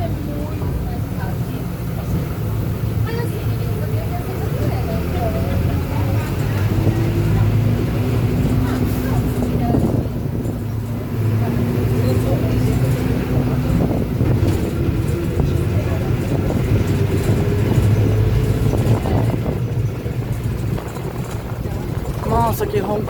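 A Marcopolo Senior Midi bus on an Agrale MA 15.0 Euro III chassis with differential, its engine giving a loud, steady, deep roar with slowly rising tones that holds throughout, while voices talk over it.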